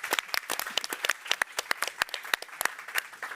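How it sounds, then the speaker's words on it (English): An audience at a science summit claps in a brisk, moderately sized burst of applause, with individual hand claps distinct and fairly close, and no talking over it. "I think that deserves a round of applause."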